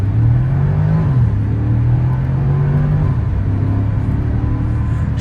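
2010 Porsche Panamera 4S accelerating in Sport Plus mode, a steady loud engine drone rising in pitch, dropping briefly at a gearshift around one second and again near three seconds, heard close from inside the car without talk.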